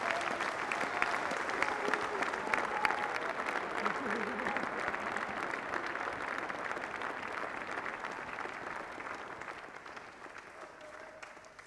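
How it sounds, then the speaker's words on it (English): A graduation ceremony audience at Solent University's School of Sport, Health and Social Sciences applauds in a long, steady wash of clapping that holds for over ten seconds and thins slightly toward the end. "Let's just give it another round of applause."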